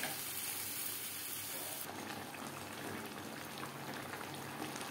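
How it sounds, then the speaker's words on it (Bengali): Mutton being sautéed over a high-to-medium flame for a potato and mutton curry, producing a loud, continuous crackling sizzle with no pauses. "চার 5 মিনিট হাই টু মিডিয়াম ফ্লেমে মাটন বেশ ভালো করে কষিয়ে নেব।"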